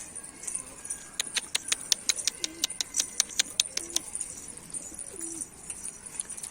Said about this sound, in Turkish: Kuşları kaldırdım.